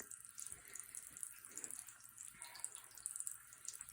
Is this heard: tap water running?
yes